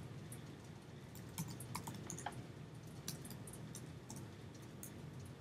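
Fingers typing a username and password on a computer keyboard, a quiet run of light key clicks at close range over steady room hum.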